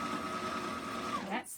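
A sewing machine stitches through a thick dish mat and kitchen towel, running as a steady close whir that speeds up slightly before stopping abruptly near the end.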